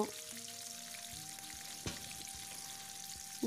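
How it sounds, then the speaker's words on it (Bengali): Hilsa fish frying lightly in oil in a pan, giving a steady, soft sizzle with a few sharp pops and crackles standing out near the middle and end. "মাছটাকে আমি এপিট ওপিট করে দুই মিনিট দুই মিনিট করে চার মিনিটের মতো ভেজে নেব"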